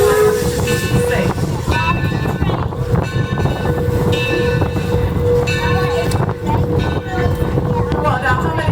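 Train at Greenfield Village on the Torch Lake line during an emergency stop, with loud continuous rumble, hissing steam and metallic squeal tones, whistle-like pitches rising and falling over the noise.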